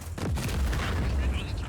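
Deep booming blasts from the video game Just Cause, played on an LCD Steam Deck, roll and rumble continuously for under two seconds at steady loudness, with no talking.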